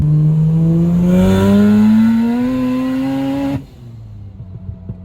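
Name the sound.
Mazda RX-8 rotary engine revving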